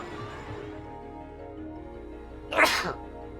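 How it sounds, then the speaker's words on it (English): A single sharp, loud sneeze bursts out near the end over a quiet background of low, steady SimCity 3000 game music. "It was only one sneeze."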